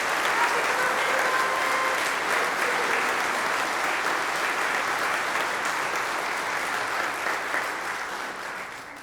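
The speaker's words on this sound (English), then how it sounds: "let's give Robin a great big round of applause" An audience at a church parish concert gives a sustained round of applause for pianist Robin, dense and steady clapping from a crowd in a hall, gradually tapering toward the end.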